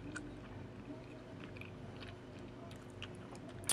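Someone chews a bite of mochi, making faint, close, soft squishy mouth sounds over a few seconds in a quiet room.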